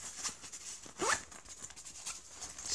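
Zippers on an anti-theft sling bag are pulled in short, quiet zipping strokes, with one brighter rasping pull near the middle amid soft handling rustles.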